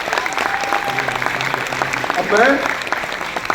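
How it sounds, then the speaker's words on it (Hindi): Theatre audience at a Mahabharat performance applauds in a steady, moderately loud patter of claps, with someone speaking briefly over the applause. "जोरदार तालियां for Mahabharat being a film"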